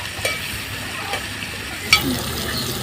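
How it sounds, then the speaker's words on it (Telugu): Bitter gourd frying in a pan, a steady soft sizzle of oil with occasional clinks of a spatula stirring, heard close with no voices. "ఇదిగోండి కాకరకాయలు అయితే వేగినాయి అనమాట"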